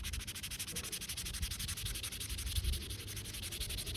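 Fine sandpaper rubs over filler primer on a 3D-printed part in quick, even back-and-forth strokes. The scratchy sound is close but quiet, with no talking.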